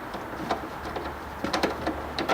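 Sharp, irregular metallic clicks and ticks from an 8mm bolt being worked out of a 2016 Ford Fiesta ST fender. The clicks are close and moderately loud and come in short bursts over a steady low hum, with no talking.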